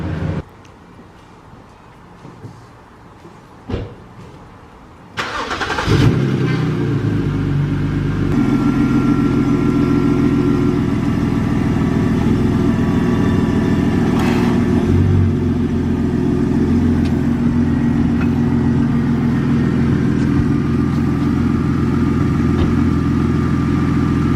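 A BMW E90 328i engine starts up loud and close, then revs and holds a steady, rough idle-like drone while the car backs up, after a few seconds of quiet clicks and handling noises.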